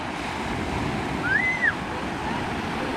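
Surf washing onto a beach in Sayulita, a steady broadband roar of waves with wind across the microphone, a brief tonal chirp near the middle and no voices.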